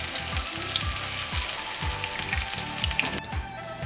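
Tuna and vegetable kebab fries in a pan with a steady, close hiss of sizzling oil, broken by soft low thumps and occasional crackles.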